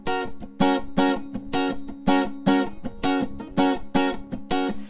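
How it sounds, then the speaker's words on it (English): Acoustic guitar strumming the intro of a song, bright full strums alternating with quick percussive muted hits in a steady repeating rhythm, close and clear with no voice. "Here's the intro to the song."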